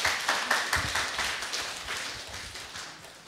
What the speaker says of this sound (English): Let's give her applause.